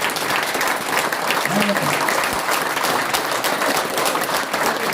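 Loud, sustained applause fills a business meeting hall, a dense wash of many hands clapping at once, with a voice briefly cutting through partway.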